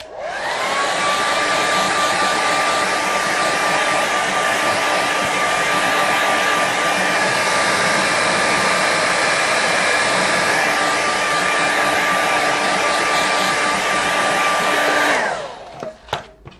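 A hair dryer blows steadily and loudly at close range for about fifteen seconds, drying watercolour paint on a landscape of lakes and mountains, then cuts off abruptly at the end.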